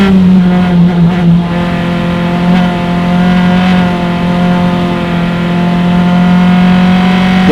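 FE2 and Formula Continental open-wheel race cars roar down the front straightaway at Mid-Ohio in a loud, sustained high-pitched engine drone, steady and close with a slight pitch shift as they pass.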